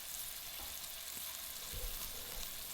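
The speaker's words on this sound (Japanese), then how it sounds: "このようにココットを動かして肉の下に油が入るようにしながらじっくりと焼いていきます" Bone-in ribeye steak searing in oil in a thick-bottomed cocotte pot, a steady, dense sizzle and crackle throughout, close and even, with no voices.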